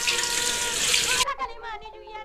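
Water runs and splashes steadily from a tap while chicken is washed after being scrubbed with salt, a loud close rush that stops abruptly, followed by a few faint drips and clinks.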